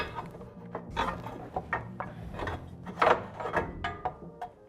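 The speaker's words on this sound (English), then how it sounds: "Next, we're going to remove the drive pulley housing." Work on the drive pulley housing of a Kawasaki Teryx KRX 1000 gives close, irregular metallic clanks, scrapes and rattles of parts being handled and pulled free, with no talk.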